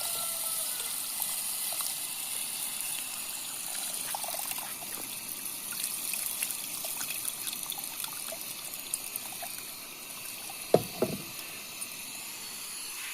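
Tamarind water soaked from a lemon-sized lump poured into a clay pot of fish curry, a soft steady trickle running quietly throughout, then a couple of brief louder splashes near the end, no voices.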